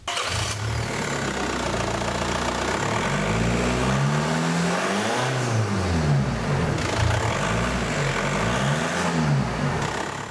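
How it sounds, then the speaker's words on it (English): A 1.9L VW TDI diesel engine with an AEM cold air intake rumbles steadily nearby, its pitch swelling and falling in repeated rev cycles over a constant clattering idle. "we're going to start it up to see how it sounds"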